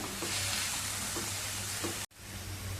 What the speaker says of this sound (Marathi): आता तेलावरती पालकची भाजी चांगली परतवून घ्यायची